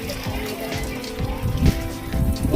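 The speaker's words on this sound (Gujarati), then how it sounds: "ફૂલ વાવાઝોડા સાથે વરસાદ આવી ગયો છે." Rain driven by strong, gusty wind over a farm field: a steady, fairly loud hiss with surging gusts and low rumbles, with a faint tonal hum underneath.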